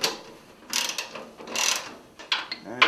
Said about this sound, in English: We'll stick the wrench on top